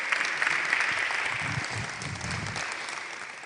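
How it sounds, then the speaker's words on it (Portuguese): Brief applause from a church congregation during a sermon, a dense, even patter of clapping that fades slightly toward the end, with a low murmur of voices underneath. "pode aplaudir, porque é para Deus mesmo"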